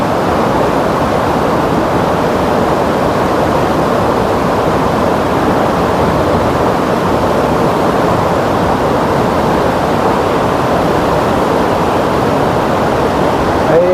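A strong water current surging through an irrigation channel, a loud, constant broadband roar that never lets up, close and alone.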